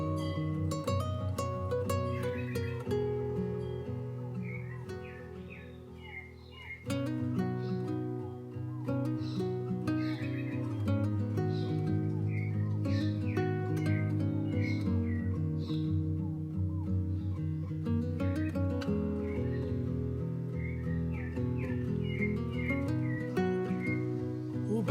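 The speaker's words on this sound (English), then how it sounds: "Let me just be quiet and have you listen to the birds." Birds chirp and whistle in rural Brazil, with scattered calls over a dense, steady tonal bed of sound that runs throughout and dominates the scene.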